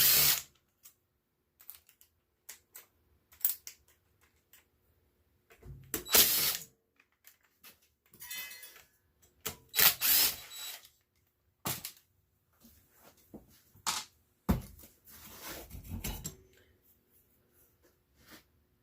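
A power drill backs screws out of a circulator pump in short, loud whirring and ratcheting bursts separated by quiet pauses.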